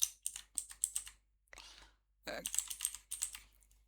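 Typing on a computer keyboard: close, crisp clusters of quick keystrokes in uneven bursts, broken by short pauses and a brief softer rustle.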